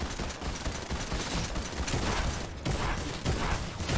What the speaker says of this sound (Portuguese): Nossa, descarrega muito rápido essa arma, velho